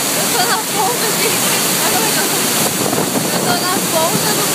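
Iguazu Falls heard from the lower walkway, a loud, dense, continuous roar of cascading water that fills the whole scene without a break, with faint voices barely audible beneath it.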